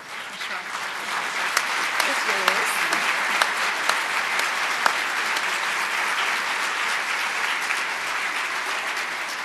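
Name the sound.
applause at award dinner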